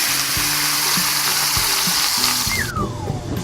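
Beef sautéing in olive oil in a pan gives a loud, steady sizzle and fry, with a few clanks from stirring and a short bright scrape near the end.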